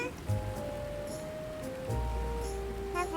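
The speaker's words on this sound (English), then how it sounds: "The rain falls upon my fur." Steady rain falls in the Grimshire video game, a constant hiss running through the whole stretch with soft low thumps, while game music tones and a narrating voice sit over it.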